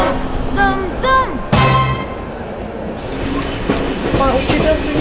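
A train carriage rolls along the rails with rhythmic clickety-clack and steady rumble, while people talk and voices rise over the running noise of the ride.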